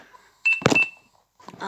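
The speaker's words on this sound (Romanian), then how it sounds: "Până face ea bip bip." A speaker being connected to a smart TV gives a short electronic beep that pairs with a brief clunk, then goes quiet before another faint burst of sound.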